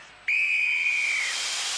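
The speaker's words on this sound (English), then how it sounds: "A direct contact over the sensor will release that plume of CO2 gas." A sudden sharp whistle-like hiss bursts out as CO2 gas releases from a game-show scoring pod, staying loud and steady before fading into a broad hiss.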